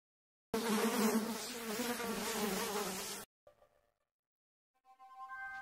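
A Calliphora vicina blowfly buzzing loudly and close for a few seconds, a dense steady drone that stops abruptly, followed by faint brief tones.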